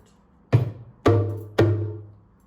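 Three distinct Zimbabwean hand drum strokes, evenly spaced, each a sharp slap with a booming low ring that decays quickly; no voices.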